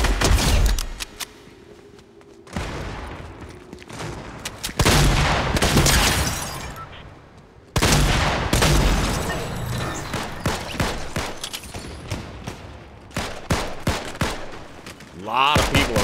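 AK assault rifle fire in the video game Fortnite, several sharp bursts and rapid volleys with loud bangs and brief gaps between them, close and dominant throughout.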